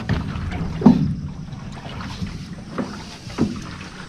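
Motorized wooden outrigger bangka running on water, a steady low engine drone and hull-and-water wash with wind buffeting the microphone, two louder bumps or splashes standing out, no talk.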